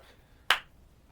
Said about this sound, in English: get a harder clap